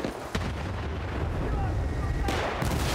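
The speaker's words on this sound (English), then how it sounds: "More buildings just randomly blowing up." Buildings blow up in Battlefield: Bad Company, a war video game, with deep rumbling blasts and crashing debris filling the soundscape, a sharp impact near the start and another surge later, loud and continuous.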